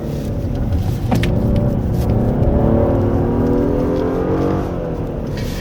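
A 2024 Genesis G80 3.5 turbo AWD pulls hard out of a tight corner on a winding mountain road in second gear, the engine note rising steadily in pitch for several seconds, loud and close, with no talking.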